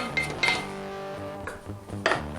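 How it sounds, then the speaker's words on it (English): Browned beef, onion and garlic scraped from a cast iron skillet into a slow cooker, with a few metallic clinks and clatters of utensil on cookware, close and moderately quiet, with no talking. "Just throw that all into the slow cooker."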